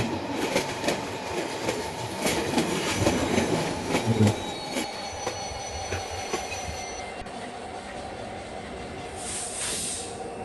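A train runs in Train Simulator Bangladesh near Sitakunda station in Chattogram, giving a continuous rumble with rhythmic wheel clacks and squeal, easing into a steadier hiss later.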